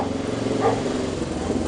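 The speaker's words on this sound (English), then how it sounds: "Loud dogs barking." Dogs bark in a small village built on a steep hillside in Greece, one short bark cutting through a steady, loud engine and road rumble.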